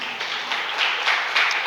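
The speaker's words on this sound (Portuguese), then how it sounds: "Fica de pé e aplauda o nome dele em nome de Jesus." A church congregation applauds, a dense, continuous wash of many hands clapping that swells slightly toward the end, with no clear speech over it.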